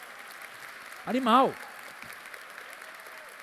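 Conference audience applause rattles steadily in the background while a man on stage calls out a single word, his voice rising briefly above the clapping.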